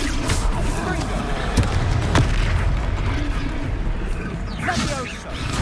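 Fire spell blasts in the video game Hogwarts Legacy, loud booming impacts and crashing combat effects over a busy game soundscape, with a voice speaking over it.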